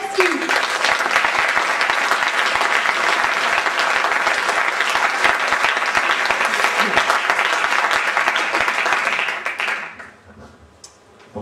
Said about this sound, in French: Applaudissez bien fort Stéphane Gajewski.